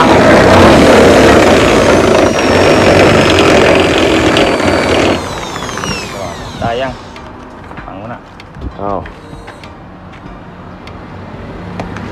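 A loud power drill whirs continuously for several seconds, drilling holes in a carbon bonnet on a Toyota Revo pickup, then stops; afterward quieter rattles, clicks and short bursts of a voice follow.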